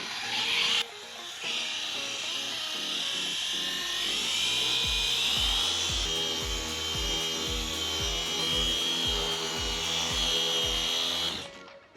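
A cheap electric car polisher fitted with a microfiber pad works compound into car paint, giving a steady loud motor whine with a rhythmic low thumping through most of the run, with no voices.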